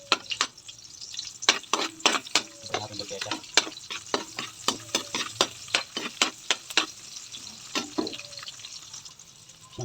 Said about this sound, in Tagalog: mag-igisa tayo ng sibuyas